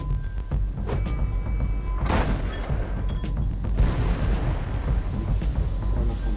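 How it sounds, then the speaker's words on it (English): A rapid series of artillery shells exploding beside a target ship, booming and crackling one blast after another over a constant heavy rumble. "The shells explode beside the target, spraying it with shrapnel."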